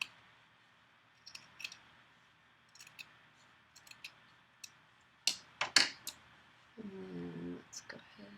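Scissors trim sewn quilt fabric in a quiet room, making scattered soft snips and clicks followed by a few sharper cuts, with a voice speaking briefly near the end.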